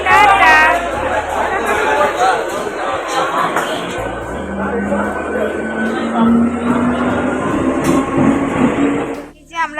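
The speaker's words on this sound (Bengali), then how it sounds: "এই যে ট্রেন যাচ্ছে, টাটা।" A train pulls away from a busy station platform, a steady rumble and rising wheel whine running beneath constant crowd chatter and nearby voices, fading toward the end.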